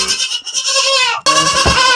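A young Nigerian dwarf goat kid bleats loudly and insistently while separated from its mother, giving two long, wavering calls close to the listener with a brief break between them.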